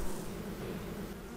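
Honeybees buzz steadily as a beekeeper opens the hive and separates frames glued with propolis, a dense, continuous drone close by with no talking.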